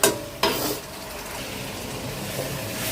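Fish is sautéed in a pan with a soft frying hiss, opening with two sharp clatters of a utensil against the pan and then settling into a quieter, steady sizzle, with no voices.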